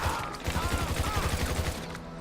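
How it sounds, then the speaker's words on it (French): Rapid bursts of gunfire in the video game GTA 5, a dense stuttering volley of shots lasting a couple of seconds at steady loudness. "je vais tirer des balles"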